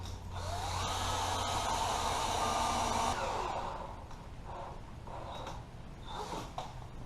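Masonry screws go into the frame of a shed door at a garage entrance, driven with a steady high-pitched whir for about three seconds, followed by quieter, intermittent bursts of the driver as each screw seats.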